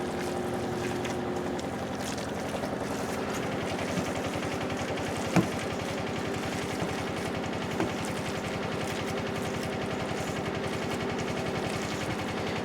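A washing machine runs a laundry load in a laundry room beside the kitchen, giving a steady, muffled mechanical rumble with a faint rhythmic churn. Two brief clicks stand out over the constant drone.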